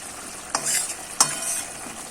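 Fish pieces for a spicy fish curry sizzle steadily in a hot pan, with two sharp clatters as pieces are dropped in and shifted, followed by continuous crackling frying with no voices.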